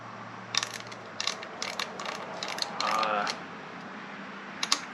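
Two 10mm wrenches turning the nut and bolt on a 2024 Yamaha MT-03 brake lever, a series of short close metallic ratcheting clicks and scrapes in spaced bursts.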